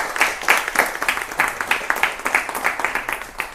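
An audience at a public political gathering claps in a lively burst, many hands beating in quick uneven rhythm, moderately loud and close, with no voices over it.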